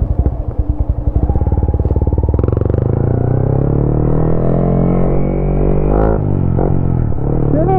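A Yamaha Sniper motorcycle engine starts and settles into a steady, loud, close idle with a rapid, even pulse and an occasional blip of revs, just after its starter motor was repaired.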